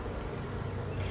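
Honey bees swarm around a wooden nuc box, a dense, continuous buzzing drone close by with no voices.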